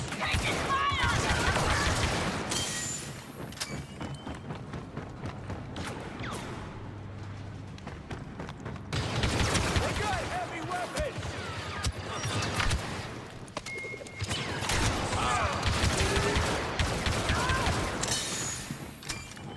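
Blaster gunfire in the Star Wars Battlefront 2 campaign crackles in rapid bursts with mechanical clanks and booms, loud and close, under in-game voice chatter.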